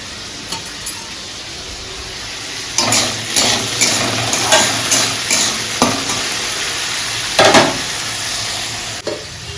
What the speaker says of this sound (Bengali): আলু ভাজাটা একটু হোক একটু নুন আর একটু হলুদ দিতে হবে